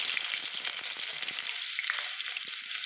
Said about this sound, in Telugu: ఆయిల్ ఆల్రెడీ బాగా హీట్ ఎక్కిపోయినది సో నేను వచ్చేసి ఆనియన్స్ వేసేస్తున్నాను